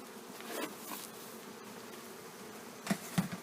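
Honey bees buzz around an opened hive as a honey super is removed, a faint, steady drone close by with a couple of louder bumps near the end.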